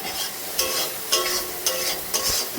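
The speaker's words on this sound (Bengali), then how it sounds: "মশলাটা আরেকবার ঘেটে নেব।" A spatula stirs a Bengali masala frying in a pan. Steady close sizzling is broken by four or five regular scraping strokes, about two each second.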